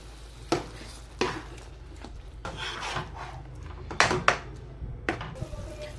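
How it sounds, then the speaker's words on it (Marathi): A spoon scraping and stirring a masala paste as it fries in oil for a spicy mutton curry, giving repeated close rasping strokes and rubbing sounds at an uneven rhythm with no talking. "इथे आपला मसाला परतत आहे"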